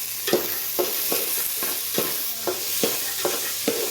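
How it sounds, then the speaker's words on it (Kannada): Eggplant (brinjal) pieces sizzle softly in a pan while a spatula scrapes and stirs them in a steady rhythm of about two strokes per second, close and unaccompanied by talk. "ಇವಾಗ ಬದನೆಕಾಯಿ ಹಾಕ್ತಾಯಿದ್ದೀನಿ."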